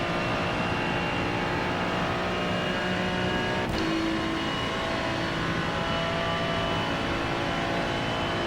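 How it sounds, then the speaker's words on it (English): A faster-class race car closes in during an IMSA race in iRacing, a continuous loud engine roar at high revs that fills the whole stretch, with a brief gear-shift blip midway. "Look, there's always going to be a faster class car approaching."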